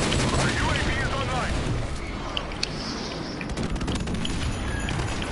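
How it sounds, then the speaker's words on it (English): Airstrike explosions and bursts of gunfire in a video game rumble under voices talking over them. "Ooh, nice airstrike."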